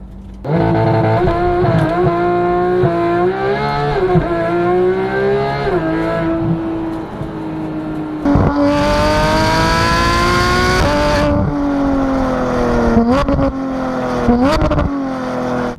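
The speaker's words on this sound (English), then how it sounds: "let you listen to this incredible sounding flat six" A 2015 Porsche GT3 flat-six engine with a loud aftermarket exhaust revs up and down repeatedly, pitch climbing through gears, close and aggressive with no talking.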